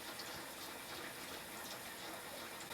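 Water runs steadily through newly installed indoor plumbing in an off-grid Vermont yurt, fed through a mixer valve into the cold water line: a continuous, fairly faint broadband rush with no talking.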